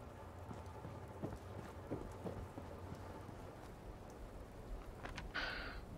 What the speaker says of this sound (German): Regnet hier, glaube ich, gerade.